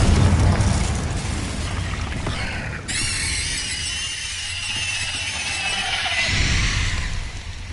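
Explosive spell blasts in Hogwarts Legacy, a loud booming burst at the start followed by crackling, squealing magical effects and rumbling debris that fade and swell again, game music faintly beneath.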